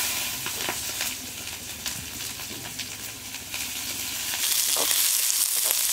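Onion frying in hot oil for a whole gadis fish curry: steady, dense sizzling and crackling throughout, growing slightly louder and hissier toward the end, with occasional stirring scrapes and no voices.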